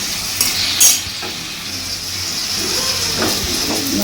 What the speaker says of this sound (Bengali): ভাতের ফ্যান পড়ে যাচ্ছে।